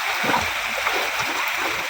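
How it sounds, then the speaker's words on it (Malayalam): Water flowing in a small village stream, a steady close rushing and gurgling with occasional light splashes, continuous and fairly loud with no talking. "നീടെ എങ്ങനെയുണ്ട് ഞങ്ങളെ തോട്?"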